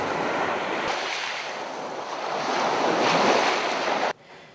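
Waves wash steadily onto a Lake Erie beach of water-worn pebbles and sand, a broad rushing surf with wind noise swelling slightly before cutting off abruptly near the end.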